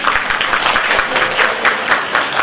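An audience at a national mental health week event at Srithanya Hospital claps for a doctor in a brief burst of steady, dense applause that fills the room.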